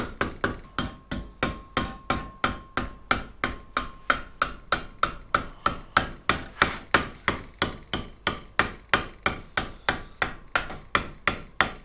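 A hammer strikes a metal motorcycle body panel in a steady, even rhythm of sharp ringing blows, about four per second, close by and with no talk.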